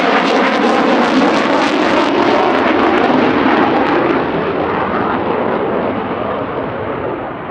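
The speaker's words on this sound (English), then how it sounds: "we did get a flypast from the display jet, plus its spare" Two Eurofighter Typhoon jets, the display aircraft and its spare, roar overhead in a loud flypast at an air festival, the broad engine rumble slowly fading as they pass.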